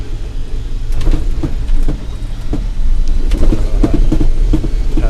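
A heavily loaded Smith Cabac electric truck, a converted milk float, grinding up a steep 1-in-8 hill, with a steady low motor drone and loose clattering and rattling from the cargo on the back throughout.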